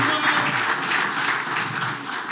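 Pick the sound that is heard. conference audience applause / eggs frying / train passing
conference audience applause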